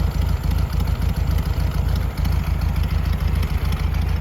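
A Volkswagen Beetle with a 1300 engine idles close by, its steady low, even chugging running unbroken and fairly loud with no one speaking.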